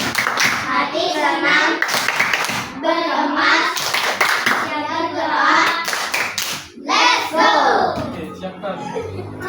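Children in a classroom clap a short patterned rhythm together, with bursts of sharp hand claps mixed with kids' voices chanting and speaking throughout, close and lively.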